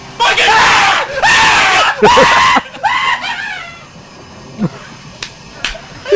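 A video game character in a ghost-hunting game lets out several loud, sustained screams in quick succession, followed by quieter scattered yelps and thumps as the noise fades.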